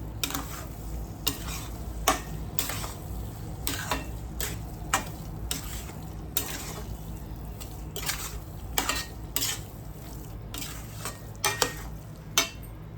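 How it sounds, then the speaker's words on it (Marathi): Sheera is stirred in a pan after cardamom powder goes in, a spoon tapping and scraping against the metal in steady repeated clicks over a soft background hiss. "वेलची पूर्ण मिक्स होईपर्यंत चांगलं ढवळून घेणे"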